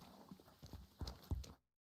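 Horse hooves clip-clopping at a walking pace in the video game Kingdom Come: Deliverance II, several uneven close thuds over a quiet background before cutting to silence.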